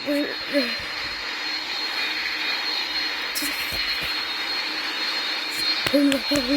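Airplane engine in the Roblox video game, a steady droning roar held throughout, with brief tonal hoot-like blips near the start and end.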